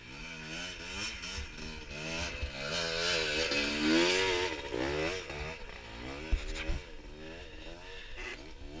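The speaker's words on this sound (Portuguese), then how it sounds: "Só pra ver como é que essa moto sobe aqui" A motorcycle climbs an uphill dirt trail, its engine revving loud and close with rising and falling pitch as it labours and pulls, a few knocks and bumps breaking through.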